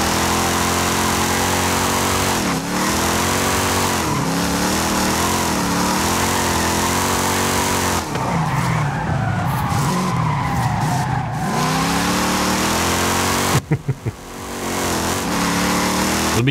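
A lowrider car drifts through a city map in Forza Horizon 5, its engine droning and tires squealing in long sliding arcs, rising and falling with throttle, with a few sharp rattling bursts near the end.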